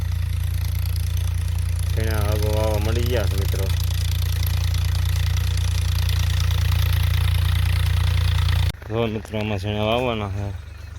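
A tractor engine runs in a field during sowing, a loud, steady low drone with someone talking over it twice; the engine sound cuts out abruptly near the end while the voice continues.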